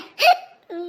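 One sharp, close hiccup bursts out abruptly, followed by a short voiced sound from the same person, fairly loud against an otherwise quiet background.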